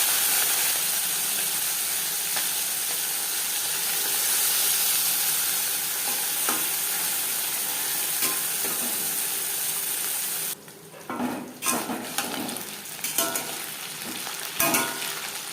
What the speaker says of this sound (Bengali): 4 চামচ সরষের তেল গরম করে নিয়েছি। এবার দিয়ে দেব লবণ হলুদ মেখে রাখা মাছ।